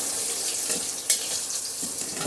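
Pointed gourd (potol) frying in oil in a pan, a steady broadband hiss of sizzling with a brief sharper crackle midway, close and continuous with no voices.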